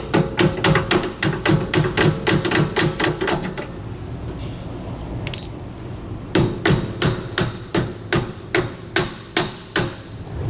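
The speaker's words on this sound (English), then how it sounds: "we can just tap these off of here" Hammer taps knocking rubber equalizers off a tandem-axle travel trailer's suspension, a close, loud series of sharp metallic strikes in quick rhythm, a brief pause mid-way, then steady blows resume.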